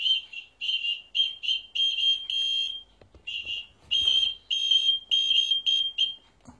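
Surf PI Pro metal detector sounding a high electronic signal tone in repeated beeps of varying length, with a short gap partway through, loud and close while searching for gold and testing with a ring.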